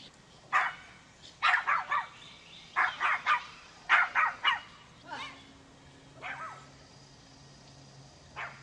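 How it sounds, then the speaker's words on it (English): Small dogs in a front yard, a little black-and-white one among them, bark and yip in short bursts of two or three, fairly close, trailing off into softer yelps over a faint low hum. "And that's your dog, sir?"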